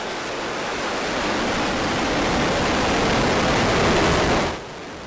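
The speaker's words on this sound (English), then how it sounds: "we have liftoff of the NG-10 mission, taking Cygnus to the" Rocket liftoff of the NG-10 mission carrying a Cygnus cargo craft: a loud, steady, broadband roar that builds and holds before cutting down near the end, with no voices.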